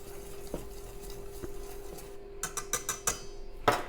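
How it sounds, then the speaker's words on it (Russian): A spoon stirs cake batter tinted with gel food colouring, making soft, irregular scraping and clinking taps against the bowl, quiet and close, with a steady faint hum underneath. "И перемешиваем."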